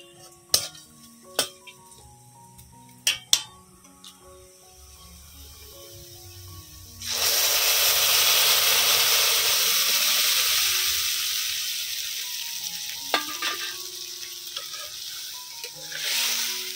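Red lentils drop into hot tempering spices in a pan, bursting into a loud, sustained sizzle after a few sparse clinks of utensils, then gradually easing off.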